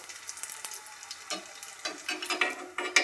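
Panipuri puris fry in hot oil, bubbling and sizzling in quick bursts as they are pressed with a slotted ladle, close and fairly quiet with occasional light clinks.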